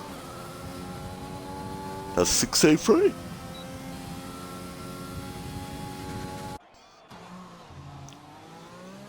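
An F1 race car in a video game set at the Mexico round sweeps around the final corner, its engine a steady droning whine under a commentator's voice, with a brief louder burst midway before the sound drops away.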